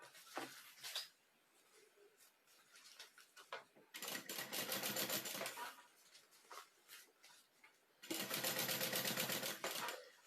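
Sewing machine topstitching a lining at stitch length 5 with a half presser foot, running in bursts of rapid, close mechanical chatter with quieter gaps between runs.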